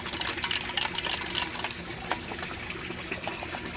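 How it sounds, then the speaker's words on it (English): Vinegar mixed into water is stirred in a container, making continuous close swishing and sloshing with small splashes and clinks, fairly quiet and alone. "I'm going to stir it up."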